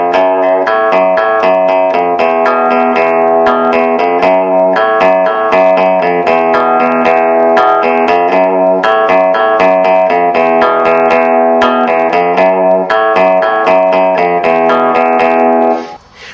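A loud, steady distorted electric guitar riff repeating a chugging pattern of chords, continuous and close, ending abruptly.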